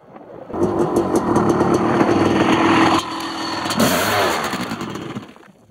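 A motorcycle engine runs loud and close, a steady rumbling drone that shifts pitch partway through as it revs, with no talk over it.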